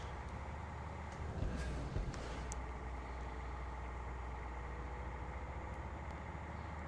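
An International 9800 truck engine in American Truck Simulator, a steady low droning hum with a brief rise in revs, continuous and close.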